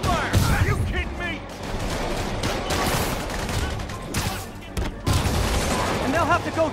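Gunfire in Spider-Man PS5 Remastered: loud, rapid volleys of shots crackle through a dense combat soundscape, with short pauses between bursts and shouting voices mixed in.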